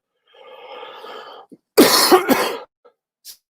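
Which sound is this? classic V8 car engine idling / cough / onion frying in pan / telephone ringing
cough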